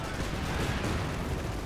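Machine guns fire on infantry from the flank in Company of Heroes 2, a dense, continuous rattle of gunfire mixed with battlefield rumble, with a voice talking over it.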